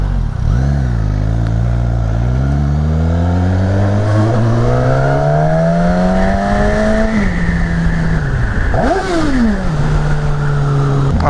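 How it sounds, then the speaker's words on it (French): A 2019 Suzuki Katana motorcycle engine starts and is revved repeatedly, loud and close, with rising and falling engine pitch sweeping up and down throughout, no talking. "coupure du moteur, le warning et le démarrage"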